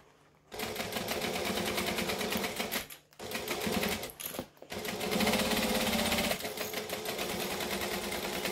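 A sewing machine stitches slowly through layers of foam for a backpack, a loud, close, fast mechanical rattle running in long bursts with two brief pauses.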